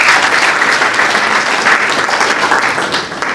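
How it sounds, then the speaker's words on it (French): Sustained audience applause at a national Caritas network forum in the DRC, a dense, loud and steady clapping from a large crowd lasting throughout and fading slightly at the end. "Applaudissons pour Calamity."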